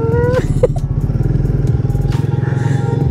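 A Royal Enfield Himalayan 450 motorcycle thumps loud and close in Kolkata city traffic, its engine pulsing steadily, with a brief horn-like tone and passing traffic noise around it.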